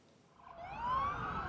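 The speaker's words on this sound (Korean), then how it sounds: "경찰차가 연이어 출동합니다." Police car sirens from a US police response near a school in Washington DC, a single rising wail swelling from faint to moderately loud over a second and a half, heard alone with no talk.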